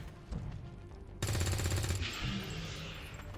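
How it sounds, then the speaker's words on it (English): Rapid bursts of gunfire from an XCOM 2 soldier shooting a large monster in a turn-based video game, a dense loud volley in the middle of the moment with game ambience around it. "let's have him shoot the big monster thing"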